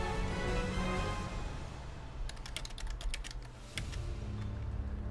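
Rapid clicking on a computer keyboard, a brief run of close, crisp keystrokes in the middle of the clip over a steady background hum, with no talking.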